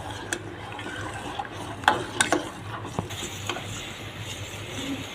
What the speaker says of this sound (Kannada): ಇದು ಕೈಯಾಡ್ಸ್ತಾನೆ ಇರ್ಬೇಕ್ರಿ.